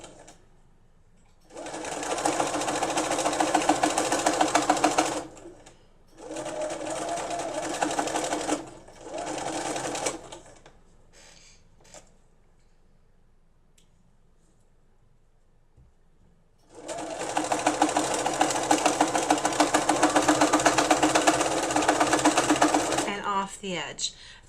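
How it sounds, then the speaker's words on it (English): A sewing machine runs straight stitches across fabric in loud, close bursts of rapid, even clatter. Quiet pauses separate the bursts, and a voice is heard during the pauses. "I'm going to start out just doing straight stitches from the very edge all the way across"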